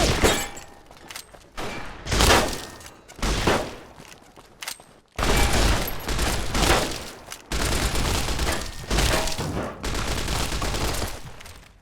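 Gunfire in The Frontier rings out as loud bursts and volleys that stop and start across the stretch, heavier and more continuous in the second half.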